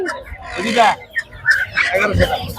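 Chickens cluck close by in short bursts over a busy poultry market hubbub in Tongi, with people talking nearby.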